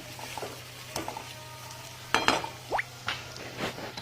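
Spice masala for a brinjal curry sizzles quietly in a pan, with several short scraping stirs and light crackles standing out over a faint low background.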